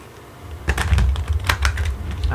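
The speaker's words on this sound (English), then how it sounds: "One more good shuffle." Playing cards riffle and flutter in a quick burst of crisp, papery snaps, close up, with no one speaking.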